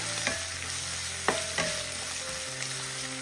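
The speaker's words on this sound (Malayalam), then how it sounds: "ഇത് ഒരു ഗോൾഡൻ നിറം ആവുന്നത് വരെ ഒന്ന് ഇളക്കി കൊടുക്കാം" Crushed shallots, ginger and garlic are stir-fried in oil in a pan until golden, giving a constant close sizzle broken by a few sharp spatula scrapes and taps against the metal.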